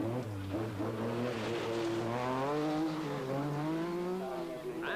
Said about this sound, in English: Four-wheel-drive car goes sideways.